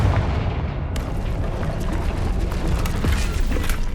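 The Confringo explosive spell cast in Hogwarts Legacy bursts in with a sudden blast, followed by dense crackling, booming and sharp impacts that stay loud and close throughout.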